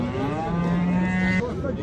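A cow at a busy livestock bazaar in Rishton gives one loud, drawn-out moo close by, with a crowded market murmur around it.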